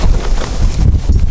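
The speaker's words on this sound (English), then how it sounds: "I hear the wind was getting up" Strong wind sweeps across a frozen Lake Athabasca during an ice fishing trip, roaring and buffeting close to the microphone in steady, gusty waves with no voices.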